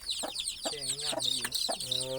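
Backyard chickens raised by a Thai farmer cluck in short repeated bursts close by, alongside a few higher squawks and calls from the flock.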